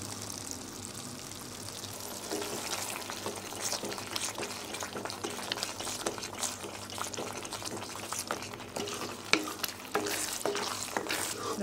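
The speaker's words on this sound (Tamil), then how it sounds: "பொறுமையாக தான் கிண்டணும் இதை" Beetroot halwa cooks in ghee and coconut ghee in a heavy pan, a soft, continuous sizzle broken by slow, repeated scrapes of stirring, fairly quiet and close, with no voices.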